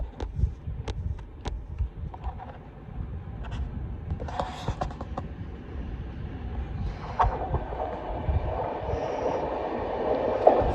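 An 11-coach Class 390 electric train, unit 390-155, bound for Manchester Piccadilly, rumbles past with a low rolling rhythm and scattered clicks and squeals, growing louder toward the end.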